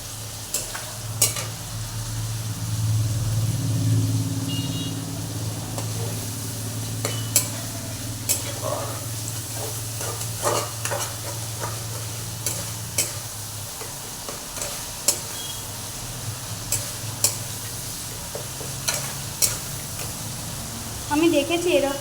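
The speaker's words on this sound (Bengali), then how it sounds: "এটাকে আমি ভালো করে কষিয়ে নেব।" Meat in a thick spiced gravy is stirred in a pot, with a low bubbling sizzle and repeated sharp scrapes and clanks of the spatula. A voice is heard briefly early on, and the stirring grows busier toward the end.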